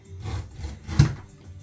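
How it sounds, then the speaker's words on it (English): A knife scoring a 6mm shower wall panel, short scraping strokes close by with one sharper scratch near the middle, quiet and brief. "we're going to trim that off with a knife"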